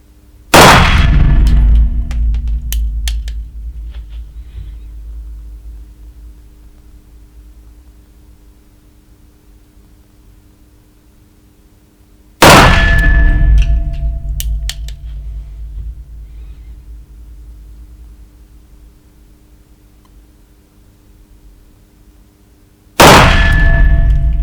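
Three loud, sharp shots from a Colt Python .357 Magnum revolver with a 6-inch barrel, each a sharp crack followed by a long ringing decay, spaced about ten seconds apart.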